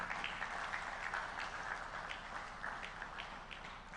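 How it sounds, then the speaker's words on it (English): Guests at a silver jubilee celebration dinner give a quiet, distant round of applause, a soft continuous patter of many hands with a few sharper claps standing out. "please give yourselves a round of applause"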